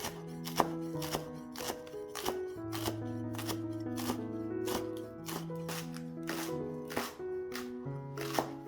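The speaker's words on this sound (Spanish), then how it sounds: "Lávalas, sécalas y córtalas en juliana finamente." A knife finely slices lettuce leaves into julienne on a board, making a quick run of crisp, regular chopping taps over soft background music with no voices.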